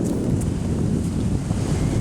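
Steady, heavy wind buffeting the microphone at the top of the Applecross Pass in Scotland, with a constant low rumble and no pauses, continuous throughout.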